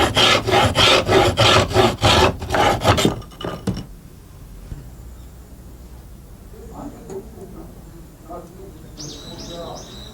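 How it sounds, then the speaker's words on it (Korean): A hand saw cuts through marked mulberry wood braced on a traditional bowmaker's workbench, giving rhythmic rasping back-and-forth strokes, close and loud for about three seconds, then fading into quieter room noise. "금을 그어놓은 뽕나무를 궁창 작업대에 대고 톱으로 자른다"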